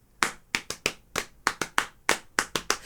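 A sharp, plucked rhythm of bright metallic-edged mbira notes in an uneven, syncopated pattern, about a dozen strikes, close and fairly clear with nothing else playing.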